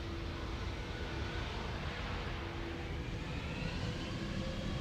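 A steady, loud roar from an EasyJet Airbus A320neo departing Amsterdam Schiphol fills the whole stretch, a dense continuous engine rumble with a faint whine, heard alone without voices.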